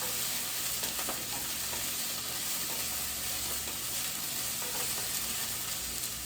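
Chopped kale sizzling and frying in a hot, steamy pan, a dense continuous hiss and crackle held at an even level throughout with faint stirring, no voices.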